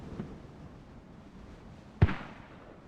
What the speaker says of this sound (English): Mortars up from ARK